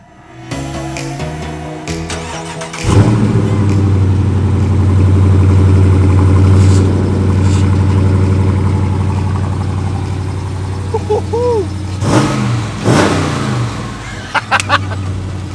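A Dodge Challenger RT with a 5.7 litre Hemi V8 cranks and fires after a few seconds of quiet, settles into a deep, loud idle, then blips the throttle twice in sharp revs near the end.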